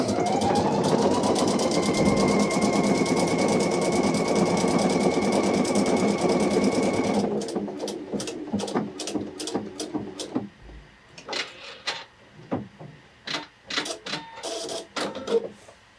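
A Pfaff Icon or Expression sewing machine stitches a single-stitch leaf design with a steady, close motor whir for about seven seconds. It then stops, leaving scattered handling clicks and taps.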